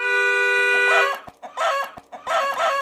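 A car horn honks, then a chicken clucks and squawks in several short, loud bursts, close by.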